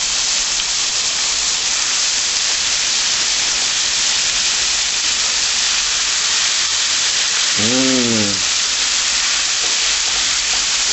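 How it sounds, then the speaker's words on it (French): Marinated pork fillet searing in a hot pan, a steady loud broadband sizzle and hiss throughout, with a brief voice heard near the end. "Saisissez-les, puis retournez-les"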